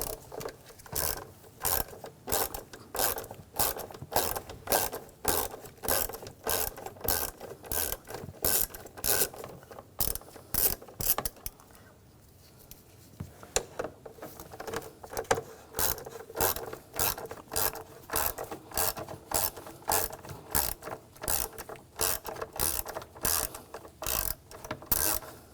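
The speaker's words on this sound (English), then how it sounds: "We're going to use the Hex 5mm socket." A ratchet with a 5mm hex socket backs out screws on a 2007-2013 BMW X5 3.0L inline-six during an intake gasket job. Fast, even clicking runs in long strokes, pauses briefly, then resumes up close.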